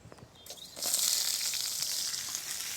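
Food drops into sesame oil in a pan and breaks into a loud, steady sizzle that starts abruptly and keeps crackling close by without talk.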